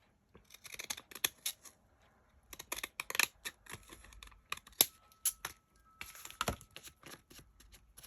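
Scissors make repeated short snipping cuts through a wet paper tag for a journal, with irregular bursts of crisp clicks and rustles separated by brief pauses, close and fairly quiet.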